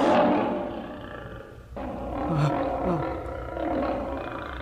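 Cartoon lion roaring loudly and close, one long rough roar that dips briefly and then rises again into growling swells.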